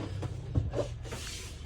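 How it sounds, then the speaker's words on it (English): A cupboard door inside a Hymer B564 motorhome swings shut and latches, giving a few soft knocks and a dull thud close by in a quiet interior. "you've got this cupboard that comes back across as well, and then you can lock that in there"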